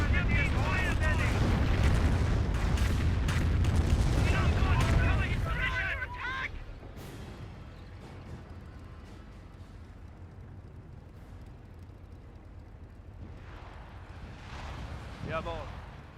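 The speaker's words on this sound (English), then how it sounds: "rocket barrage running on in" A rocket artillery barrage exploding in the World War II strategy game Company of Heroes, a dense roaring burst of rapid blasts for several seconds that fades into a lower rumble, with a commentator talking throughout.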